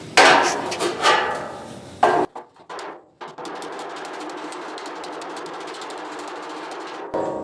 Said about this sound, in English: I'll use my hammer and dolly and get the angle that I really want